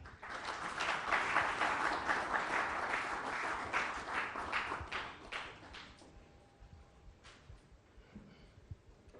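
A television studio audience applauds as a guest arrives on set, dense clapping that swells early and then thins and fades out over the last few seconds.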